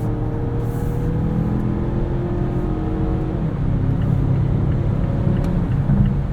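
A 2022 Mazda CX-9 Signature with its 2.5-litre turbo engine pulls hard as it accelerates, a steady close drone with rising harmonic tones and constant tyre and road rumble, no talking.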